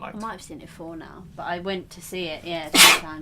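A single sharp sneeze bursts out near the end, loud and close, following steady conversational talk that continues around it.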